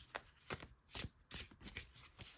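A deck of tarot cards being shuffled by hand in a quiet room, a run of soft papery riffles and slaps with short pauses between bursts, close and fairly quiet.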